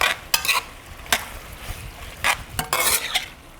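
Snow peas stirred and tossed in a frying pan for pancit bihon, with a steady sizzle broken by several sharp scrapes and clinks of a utensil against the pan, no talking.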